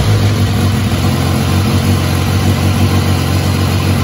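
A 2014 BMW S1000R motorcycle engine running at a steady, loud idle close by, an even mechanical drone with no revving and no voices.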